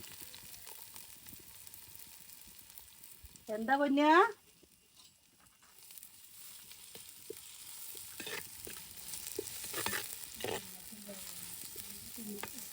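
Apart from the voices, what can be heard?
onion frying in oil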